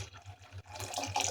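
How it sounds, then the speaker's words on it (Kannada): Water pours into a pot of bassaru curry, a short splashing, gurgling stream that grows louder in the second half, heard on its own without speech. "ಸೊ ಅದಕ್ಕೆ ನಾವಿನ್ನೂ ಸ್ವಲ್ಪ ನೀರು ಆ್ಯಡ್ ಮಾಡ್ಕೊತಿದ್ವಿ."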